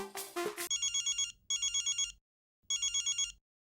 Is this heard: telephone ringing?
yes